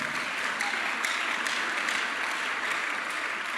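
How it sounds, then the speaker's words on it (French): A church congregation applauds in acclamation of Jesus, a dense, even wash of clapping from many hands that holds steady for a few seconds with no clear speech. "Acclamons Jésus."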